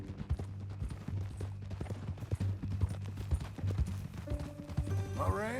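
Horse hooves clip-clop steadily in a rhythmic trot within a Red Dead Redemption 2 game scene, close and fairly loud, with a brief whinny near the end and a low hum beneath.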